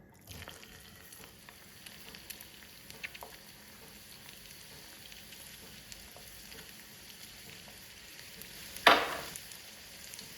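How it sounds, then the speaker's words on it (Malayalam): Chopped shallots frying in oil give a steady soft sizzle throughout, with one brief louder stir or scrape near the end, no voices. "എനിക്ക് ഇതിലേക്ക് ചെറിയ ഉള്ളി ഞാൻ എപ്പോഴും വറുത്തിടും"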